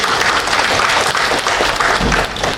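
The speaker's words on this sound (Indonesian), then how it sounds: "Tepuk tangan dulu" An audience at an Islamic New Year commemoration and digital library launch breaks into loud, close applause, a dense continuous clatter of many hands that stays strong across the brief burst.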